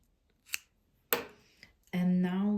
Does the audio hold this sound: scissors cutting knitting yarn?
yes